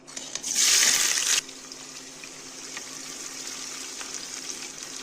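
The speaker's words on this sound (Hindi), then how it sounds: "ऑयल में स्मोक उठ चुका है। अब हम इसमें ऐड करेंगे ये प्याज।" Onions dropped into smoking-hot oil give a sudden loud hiss lasting about a second, then settle into a steady, quieter sizzle of frying.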